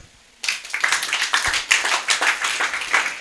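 A congregation in a Bible-study church service claps together, a steady run of close, sharp, slightly uneven handclaps that starts abruptly and continues throughout without speech.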